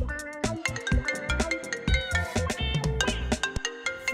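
A mobile phone rings out with a bright, repeating melodic tone, loud and close, its pattern of pulses continuing for several seconds with no voices over it.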